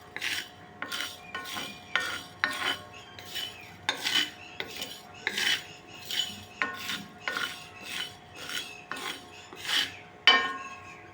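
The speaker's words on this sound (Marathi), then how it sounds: "हे आपल्याला सगळं खडे मसाले भाजून घ्यायचे आहेत जास्त नाही असे थोडेसे असे भाजून घ्यायचे आहेत" Whole spices, including cloves, dry-roast in a pan for sukha chicken, marked by a quick run of sharp metallic clinks and scrapes as a spoon stirs them, each stroke distinct against near silence.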